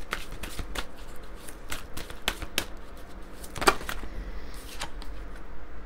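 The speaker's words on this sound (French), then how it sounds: "On va prendre quelques cartes de l'oracle Lumière de Fée." Oracle cards from a Lumière de Fée deck are shuffled by hand, giving a steady run of soft, close riffling flicks and slaps with a sharper snap near the middle, heard alone without talk.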